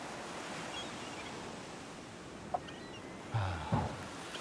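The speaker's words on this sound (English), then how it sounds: "Nice calming waves." Calm ocean waves wash in a steady soft hiss of surf, with a couple of brief faint knocks and rustles near the end.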